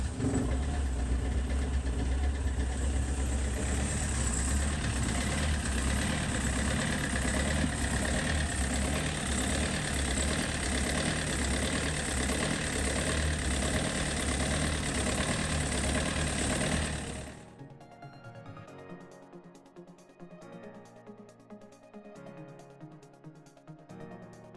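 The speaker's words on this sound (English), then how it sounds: "The broker started the engine, and Rob and Steve could really get to work." Boat engine idling during a sea trial, a steady loud diesel-like rumble with a knocking texture that runs for about seventeen seconds, then cuts away to a much quieter background.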